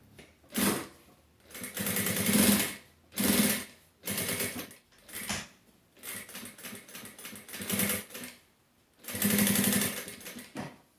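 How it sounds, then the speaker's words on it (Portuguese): A sewing machine topstitches a pocket onto a fabric pouch, running in loud rapid bursts of stitching separated by short pauses, close up and with no voices. "E já vou aproveitar para passar essa costurinha, prendendo o bolso aqui na parte de cima."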